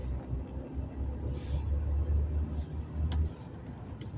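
Manual transmission car being driven through its gears, heard as a steady low engine rumble from inside the car with mild swells in level and no talking.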